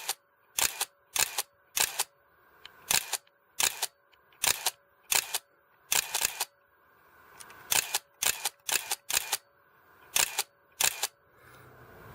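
A Nikon F3 film camera fitted with an MK1 firing rate converter fires its shutter about fifteen times in sharp, evenly spaced clacks, close and loud, with brief quiet gaps between bursts.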